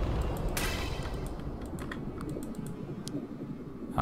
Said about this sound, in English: You've probably been hearing my mouse clicking.